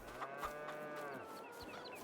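Cattle on a farm in Farming Simulator 22 low in long, resonant moos, one after another, close and clear over a steady game background, with no talking.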